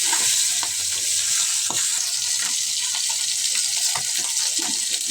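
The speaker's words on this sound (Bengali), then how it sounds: "একটা প্যান বসিয়ে তাতে শিং মাছগুলি হালকা করে ভেজে নিচ্ছি।" Shing catfish fry lightly in a pan with a steady, bright sizzle throughout, broken by occasional soft stirring scrapes close by.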